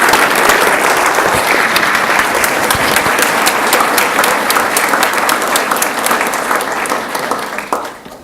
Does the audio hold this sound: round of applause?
yes